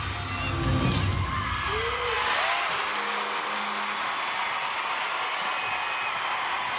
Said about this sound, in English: that explosion of crowd noise wasn't for her